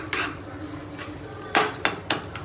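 Ingredients being mashed finely in a pan with a utensil, a few sharp metallic knocks and scrapes at irregular intervals over a quiet background.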